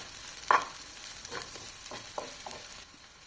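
Onions and chopped brinjal hissing in oil on a tawa, with a steady close sizzle and several sharp scraping stirs of a spatula, no talk.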